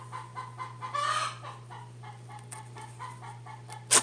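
Chickens cluck repeatedly at a close distance while someone tears cotton fabric for a crafted notebook cover, and a steady low hum sits beneath them throughout.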